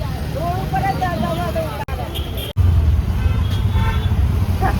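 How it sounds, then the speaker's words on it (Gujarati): Auto rickshaw ride home through town traffic, a constant engine drone and road rumble with passing horns, a jolt partway through, and people talking inside over the noise. "જઈએ છીએ રિક્ષામાં ઘરે"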